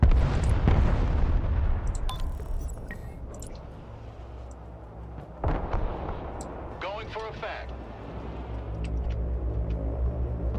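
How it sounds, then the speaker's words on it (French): Precision artillery strikes in the military strategy game Broken Arrow, heavy booming explosions rolling under steady game noise while someone talks over the action. "J'aimerais faire une frappe de précision ici."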